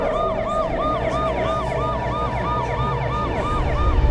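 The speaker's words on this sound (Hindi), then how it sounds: "पुलिस की गाड़ी आकर रुकती है।" A loud, close police car siren wails in a fast repeating up-and-down pattern, over the rumble of the vehicle's engine.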